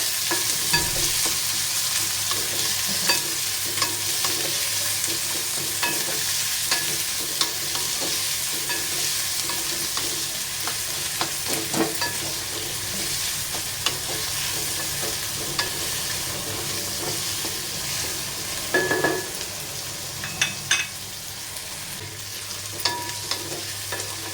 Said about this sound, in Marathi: कांदा, कांदा छान असा परतून घेऊया